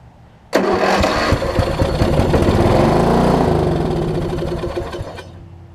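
A Craftsman 38-inch riding mower with a leaking carburetor cranks and fires up abruptly, then runs at a loud, steady mid-pitched roar that slowly eases toward the end.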